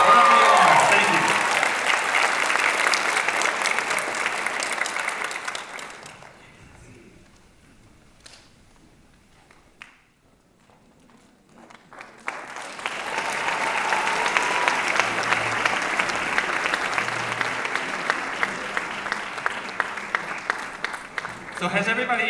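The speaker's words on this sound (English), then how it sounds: "How about another round of applause for these amazing students?" Audience applause at a school holiday concert: a long burst of clapping, a quieter lull with scattered claps and a voice, then a second full round of applause swelling back up.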